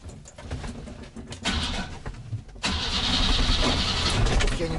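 A 1992 Moskvich 412 being started after twenty years of storage, with cranking followed by the engine catching and settling into a loud, rough idle close by, birds audible outdoors.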